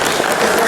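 Brief burst of dense group clapping from an audience at a team presentation, a steady wash of hand claps lasting under a second, fairly loud and close.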